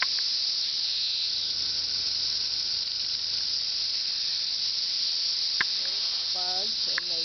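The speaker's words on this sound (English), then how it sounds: "cicadas." Cicadas in St. Louis keep up a dense, continuous high buzzing drone throughout, steady and fairly loud, with a few faint clicks and a brief tonal chirp near the end.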